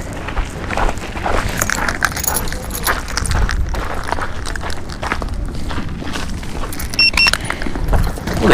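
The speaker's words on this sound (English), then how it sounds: "Get my keys out." Keys jangle as they are pulled out after an estate sale, a bright metallic clinking mixed with footsteps and movement nearby.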